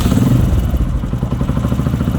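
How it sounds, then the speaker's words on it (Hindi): A 125cc motorcycle engine, self-started on a lithium battery, runs close by with a steady, loud, throbbing rumble and light mechanical clatter, heard alone. "ये 125 सीसी का इंजन जो है ना ये स्टार्ट हो जाएगा।"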